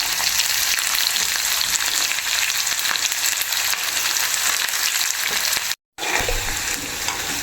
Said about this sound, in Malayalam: നമുക്ക് ചെറിയുള്ളി ഇഞ്ചി കൂടെ ചേർത്ത് കൊടുക്കാം.